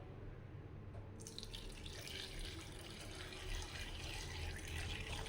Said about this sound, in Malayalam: ഒരു കപ്പ് വെള്ളം ഒഴിച്ച് കൊടുത്തു.